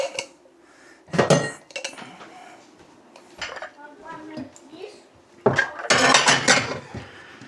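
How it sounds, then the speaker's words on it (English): Dishes are put away in a home, with plates and cutlery clattering and clinking in loud bursts between quieter moments while a person talks nearby. "Put some of these dishes away as well."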